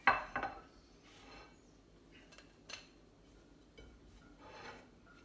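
Plates being handled while serving tomato and cheese flatbread pizza: a couple of sharp ceramic clinks up front, then faint, scattered knocks and clatter in a quiet room.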